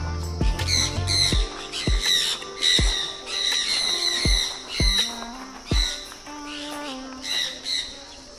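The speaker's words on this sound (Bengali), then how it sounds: "দুটো প্যারট বসে আছে এখানে।" Two parrots perched near bird feed on a hill-country tour between Namchi and Pelling let out a series of harsh, raspy squawks, about eight or nine sharp calls spaced irregularly, loud and close with no talking.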